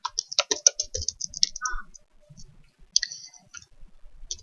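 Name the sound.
typing on a computer keyboard to write notes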